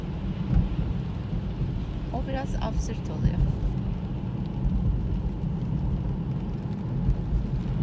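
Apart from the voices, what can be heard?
rain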